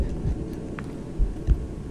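Heartbeat in the Roblox horror game The Asylum: a low, muffled double thump repeating at a slow, steady pace over a dark background hum, with no talking.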